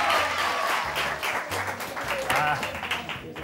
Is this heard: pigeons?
no